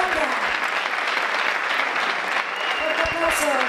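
Steady applause from an audience at a meeting of processional bands in Cabeza del Buey, a thick wash of many hands clapping continuously, with a few faint voices rising beneath it near the end.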